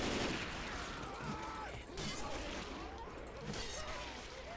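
Dense, fairly faint gunfire from the video game Left 4 Dead 2 during a helicopter hold-out fight, a continuous clatter of shots that runs through the whole short stretch under other game noise.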